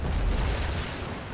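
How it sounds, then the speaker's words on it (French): A deep rumbling explosion in the naval combat game World of Sea Battle, a blast that swells and stays loud, rolling on with low booming energy for its short length. "Explosion!"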